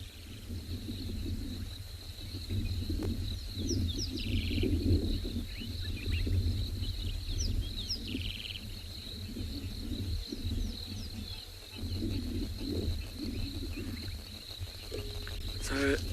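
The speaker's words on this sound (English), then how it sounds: "I want you to listen to all the frogs that are calling around us" Many frogs of several species calling around rain puddles in the bush at sunset on a safari: a dense, continuous chorus of trills and chirps, steady and moderately faint, with a low rumbling hum beneath.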